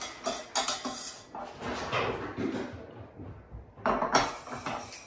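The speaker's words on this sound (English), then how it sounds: "thundering and banging and crashing in the background, that's a bunch of kittens having a very fun Sunday morning" Kittens playing cause clattering and banging, with metallic crashes and knocks like things being knocked over, coming in irregular bursts at moderate distance.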